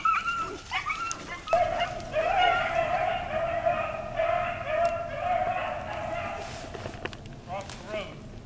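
Junkyard patch hunting dogs chasing a rabbit outdoors give a steady run of high yipping barks and whimpers, with people talking close by.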